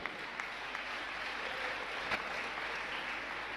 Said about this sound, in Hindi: आपकी तालियां बहुत कम बज रही हैं।